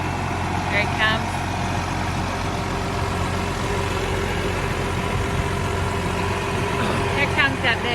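Big red tractor engine running at a steady low rumble, close and continuous throughout, with brief voices near the start and end.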